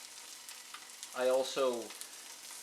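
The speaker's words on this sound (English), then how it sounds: "Kind of just frying up the tofu and zucchini as I am now" Tofu and zucchini frying in a pan give a soft, steady sizzle throughout, quiet and close, while a voice briefly speaks over it.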